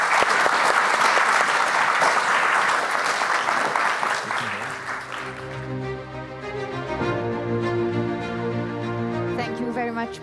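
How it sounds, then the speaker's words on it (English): Dense audience applause at a conference fills the first five seconds, then thins and fades out while a tonal, music-like sound takes over. "Please join me to give a round of applause to the speakers."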